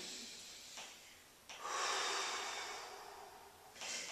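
Deep, slow breaths taken during a Pilates rest pose, with a few soft audible inhales and exhales close to the listener over a quiet room, without speech.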